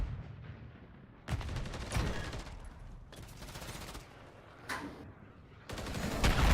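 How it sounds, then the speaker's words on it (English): Explosive gunfire and heavy blasts from a cruise missile strike in the Call of Duty MW3 video game, several loud bursts separated by quieter stretches of battle noise. "Oh, the cruise missile."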